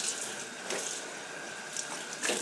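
A dyed green dress is rinsed under a running tap, with steady broadband water noise pouring continuously into a sink and slight surges in flow throughout.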